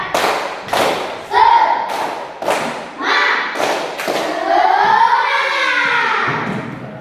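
A classroom of children performs a rhythmic spirit clap, with sharp group claps and thumps in a patterned beat, followed by chanting voices rising over the final claps.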